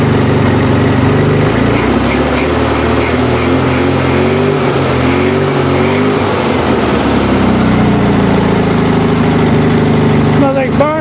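A Volkswagen engine running after sitting unused for ten years, loud and close, with a rough idle that rises and falls as it is revved, and people talking faintly over it.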